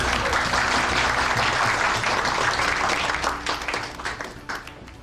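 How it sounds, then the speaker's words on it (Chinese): A room of military trainees in a film scene breaks into warm, sustained applause with dense, many-handed clapping. The clapping stays strong for several seconds, then thins and tapers off toward the end. "哎呀，各位千万别鼓掌"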